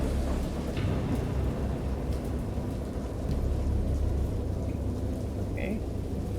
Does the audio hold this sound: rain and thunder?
yes